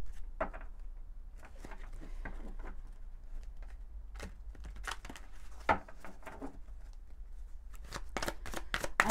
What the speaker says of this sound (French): on va prendre quelques cartes. Allez, de l'oracle enchanteur.